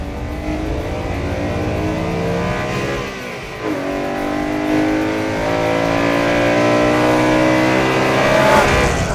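A naturally aspirated BMW E90 M3 engine revs loud and close, pitch dipping around a shift before climbing steadily higher toward the end.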